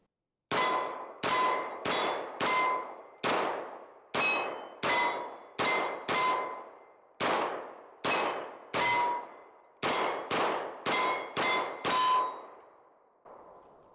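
A MAC 9 1911 DS pistol fires a full magazine, around sixteen loud, sharp shots with ringing tails at a slow, uneven pace, close and without talk.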